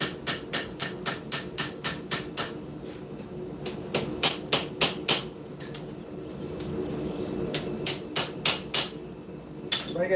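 Scrap steel being hammered into a knife blade on an anvil: runs of sharp ringing metallic strikes in quick steady rhythm, broken by brief pauses, loud and close with no talking.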